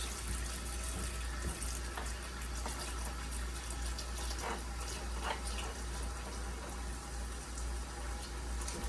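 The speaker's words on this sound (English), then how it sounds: "run some hot water on it" Hot water runs steadily from a kitchen tap into a pot while it is cleaned between batches of strawberry jam, a continuous close rushing flow with no talk.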